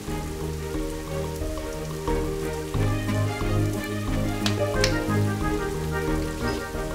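Rain falling steadily with a dense hiss of drops on a surface, continuous and fairly loud, with a low background hum beneath.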